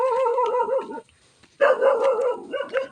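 A dog barks in a quick series of sharp, close barks, pauses briefly, then resumes barking rapidly and loudly outdoors near a bamboo grove by water.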